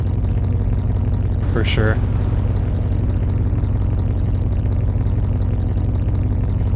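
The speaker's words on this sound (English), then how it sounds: "it sounds like we got an exhaust leak." A car engine idles loud and steady in Car Mechanic Simulator 2021 with an exhaust leak, a constant low droning rumble that carries on under a few brief spoken words.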